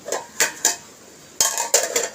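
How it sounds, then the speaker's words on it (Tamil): Dishes, pots and cutlery being washed in a home kitchen, with several sharp clinks and clatters of metal utensils in two clusters separated by a short pause, close and fairly loud, with no voices. "அடுத்து வந்து கொஞ்சம் பாத்திரம் கழுவ வேண்டி இருந்தது"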